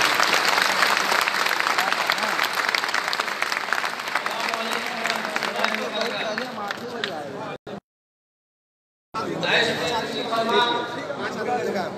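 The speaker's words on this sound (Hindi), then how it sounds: "आपसे गुजारिश है कि तालियों से उनका इस्तकबाल करें।" A packed meeting hall at Krishna Memorial Hall in Patna fills with loud, continuous applause welcoming guests to the stage; the clapping drops out abruptly for a moment, then returns with voices talking over it.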